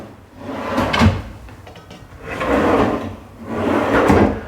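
A kitchen drawer beneath a gas stove slides open and shut in three close, rumbling sweeps with short pauses between them.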